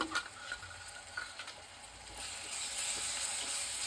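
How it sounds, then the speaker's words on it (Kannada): Ginger garlic paste and onions roasting in a hot pan, a soft steady sizzle with scattered clicks of stirring that grows denser toward the end, close and quiet with no talk. "ಇದು ಹಸಿ ವಾಸನೆ ಹೋಗೋ ತನಕ ರೋಸ್ಟ್ ಮಾಡ್ಕೊಳ್ತೀನಿ"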